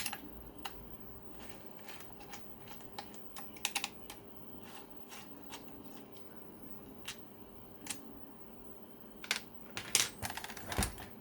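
Bolts being removed with a 4mm Allen key during disassembly of a priming system, heard as a quiet series of sharp metallic clicks and ticks, irregular and close, growing busier toward the end.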